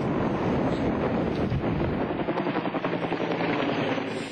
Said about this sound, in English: Helicopters and the sky crane buzzed through the smoke haze